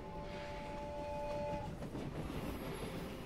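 A train pulls into the desert town in the game My Time at Sandrock during a sandstorm: steady horn tones ring over a continuous rolling rumble that fills the whole stretch.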